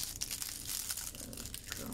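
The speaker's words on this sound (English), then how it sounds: "Now you fold it." Paper is folded and creased by hand to make a mini envelope, giving soft, close crinkling and rustling throughout.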